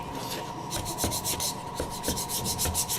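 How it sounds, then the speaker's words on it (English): Rapid back-and-forth scraping of excess glue off wood, a series of quick raspy strokes close up with no talking. "Scrape off all that extra glue."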